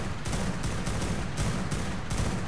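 Gunfire in the video game ARK, a rapid series of roughly eight sharp shots in quick bursts over a low background rumble, with no voices.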